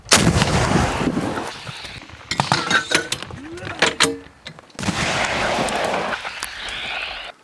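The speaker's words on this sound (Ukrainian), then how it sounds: "Вистріл!" Heavy artillery gun blasts boom and roll out several times, each followed by a long rumbling tail, with voices and metallic clinks between the shots, near Krymske, Ukraine.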